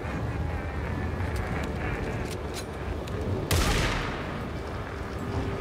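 A single sharp, loud gunshot in the video game Alan Wake 2 cuts through a dense, rumbling game soundscape, with faint crackles before it.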